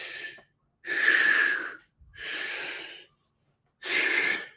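A man does breathing exercises, drawing three or four forceful, hissing breaths through the nose or mouth, each lasting about a second, separated by short pauses, close and alone.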